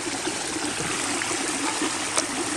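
Water squeezed by hand through a Sawyer Mini filter screwed onto a bag and turned upside down, on an overnight backpacking trip; a steady close trickle and splashing stream runs throughout with no talk.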